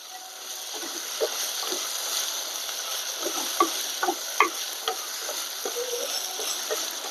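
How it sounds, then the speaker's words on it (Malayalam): Onions sautéing with rock salt in a pan: a soft constant sizzle under a scattering of scraping and stirring clicks from a spoon moving the onions around. "സവാള ശരിക്കും ഒരു ബ്രൗൺ കളറാകുന്നിടം വരെ വഴറ്റണം."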